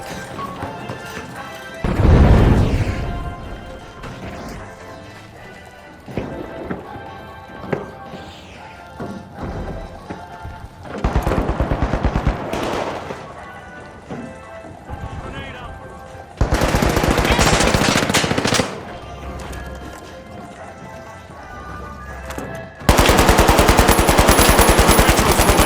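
Bursts of rapid turret gunfire in THE FINALS, loud and sustained for several seconds at a time, are separated by quieter stretches of game noise with scattered impacts.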